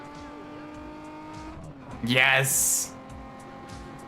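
A Nissan car with a VQ V6 engine in the racing game Need For Speed ProStreet drones steadily, swelling into a brief louder burst with a high squealing hiss as it pushes on, while someone talks over it.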